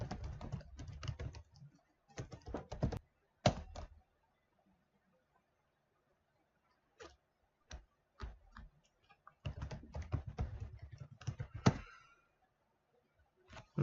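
Typing on a computer keyboard while entering login credentials: bursts of rapid, close key clicks, with quiet pauses between them.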